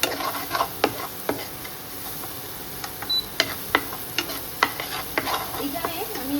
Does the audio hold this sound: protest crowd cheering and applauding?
no